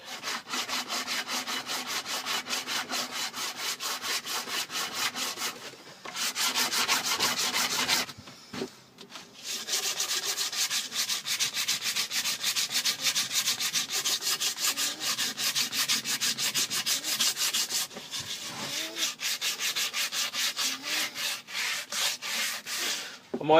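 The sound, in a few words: sanding an old axe handle with a rough sanding block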